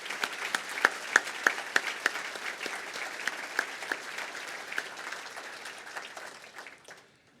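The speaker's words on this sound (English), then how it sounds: "Let's have another round of applause for all of our generous sponsors." Audience applause at a gubernatorial debate breakfast event, a sustained roomful of clapping with some sharper individual claps, gradually fading out toward the end.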